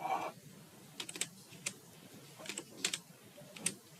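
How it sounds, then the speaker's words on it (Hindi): Quick, irregular keystrokes on a computer keyboard, heard alone with soft clicks spaced across a few seconds over a faint room hiss. "टाइप करना है ट्रिपल सी"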